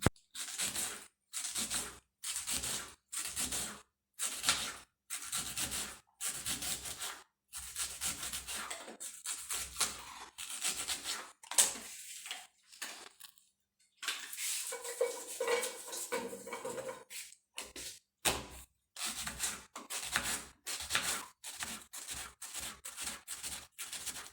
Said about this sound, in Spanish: Vamos a cortar las cebollas en tiritas.